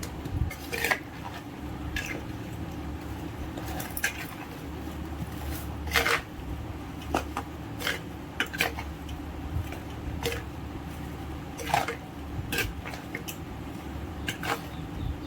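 A large ladle works oil, groundnut or sesame, through a batch of avakaya mango pickle, giving close, irregular scraping clicks and soft squelches against the vessel over a low steady background.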